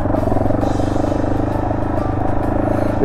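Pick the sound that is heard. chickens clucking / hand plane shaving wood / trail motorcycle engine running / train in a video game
trail motorcycle engine running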